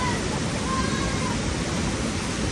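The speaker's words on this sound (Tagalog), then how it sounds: "Waterfalls." Steady, broadband rushing water of a waterfall at a cold spring source, continuous and fairly loud, with no distinct pauses.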